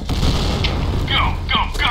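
A grenade goes off in the Point Blank shooter game, a deep boom followed by crackling debris and short chirps. Voices call out around it.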